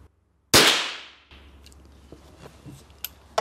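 A single sharp crack from a Chiappa Little Badger .22 rifle fired outdoors at steel gongs, loud and close, its echo decaying over about a second, followed by faint ticking and scattered light knocks.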